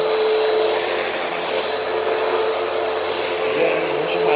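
A Hoover WindTunnel vacuum cleaner runs steadily over carpet, a loud constant whooshing roar with a faint high whine and no pauses.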